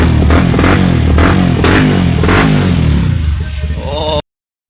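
A Yamaha R15 V3 motorcycle engine, recently rebuilt after a seizure, cranks and fires with a loud, close, rhythmic revving chug that pulses several times before abruptly cutting off.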